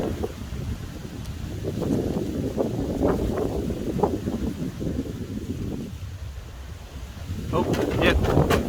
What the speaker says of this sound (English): Very windy today. I do apologise for that one.